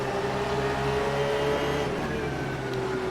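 Porsche and McLaren GT3 race cars battling closely at Brands Hatch in a racing video game, engines droning steadily at high revs with a sustained whine, near and continuous without speech.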